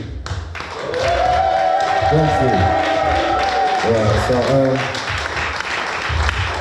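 A crowd at a community memorial gathering cheers and applauds loudly for several seconds, with claps and shouts mixed under someone speaking over the noise.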